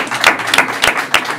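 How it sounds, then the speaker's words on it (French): A single person claps in front of a webcam in a bedroom, four sharp hand claps at an even, unhurried pace, close and fairly loud. "j'essaie d'applaudir avec une webcam"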